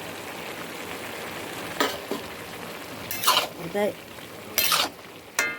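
Green chillies fry in a pan as a spoon stirs them, with steady sizzling broken by several bright metallic scrapes and clinks against the pan, and someone speaking briefly.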